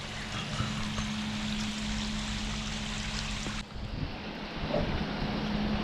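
Heavy rain lashes down steadily over a garden koi pond, a dense continuous hiss with a low constant hum, briefly dipping before resuming.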